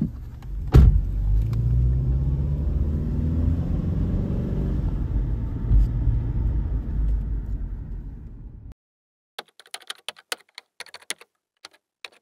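A car engine idles with a loud, low rumble and a sharp thump near the start, then cuts off abruptly. A series of quick, sparse clicks follows in near silence.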